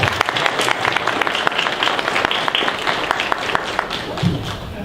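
Audience applause at a fan convention panel, a steady patter of many hands clapping in a hall with scattered thumps, fairly loud and continuous throughout.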